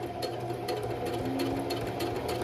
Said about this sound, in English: I'm gonna back stitch and then continue stitching